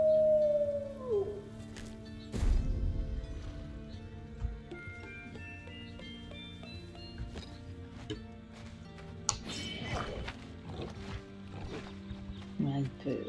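A wolf howls in the video game Kingdom Two Crowns, a gliding call near the start over steady game music and sound effects, with a voice talking throughout.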